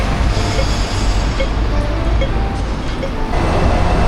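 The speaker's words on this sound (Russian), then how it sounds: "Вот такие трамвайчики курсируют в Гонконге с 1905 года." Hong Kong street tram rolling along a city street, a dense, loud, steady rumble blended with surrounding traffic noise, heard close by with no clear talking.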